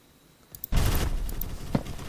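A light machine gun firing in the Phantom Forces shooter game: a sudden loud burst of rapid, sustained automatic fire that lasts about a second and a half, near and dense, with no voices.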